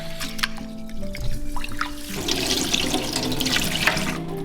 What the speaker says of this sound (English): I just wash the rice like 3 times minimum till the water runs clear.